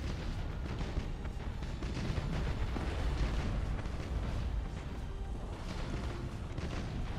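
Space battle in the strategy game Battlefleet Gothic Armada as a small ship explodes, with dense, rumbling blasts and crackling bursts layered continuously over several seconds, loud and heavy with no talk.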